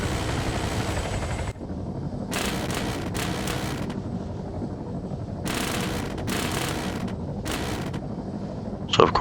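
An RCAF attack helicopter in ARMA 3 flies with a steady low rotor and engine rumble under wind-like noise, with several loud broadband bursts of minigun or rocket fire.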